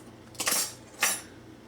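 Two quick metallic clinks of Supreme bistro-style flatware being handled, close and fairly quiet, with a short pause between them.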